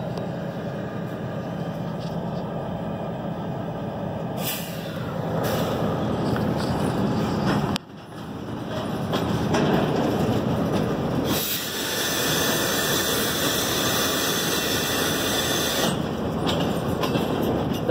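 Three CSX GP diesel locomotives idle in a rail yard, giving a steady, loud engine rumble with hiss and some louder surges. The sound is close and continuous, and no one speaks.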